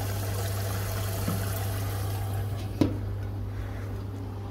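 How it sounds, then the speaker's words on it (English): Dishwasher running in a home kitchen, a steady low hum with a continuous watery swish and trickle, and a single faint clunk partway through; no talking. "listen to the dishwasher whirling around."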